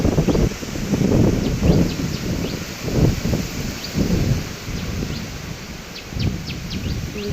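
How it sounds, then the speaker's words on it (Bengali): Strong storm wind gusting through trees, with leaves rustling in loud, surging waves and low buffeting on the microphone, plus a few faint bird chirps in the background. "দেখো ভীষণ ঝড় হচ্ছে, ভীষণ"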